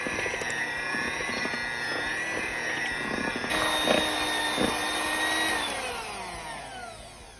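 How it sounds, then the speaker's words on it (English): An electric mixer whirs steadily while it blends banana split cake filling in a bowl, with a rising tone as the speed changes and a few knocks against the bowl, heard alone and close. "we're going to start mixing this on low speed until it's well blended, and then I will speed up my mixer"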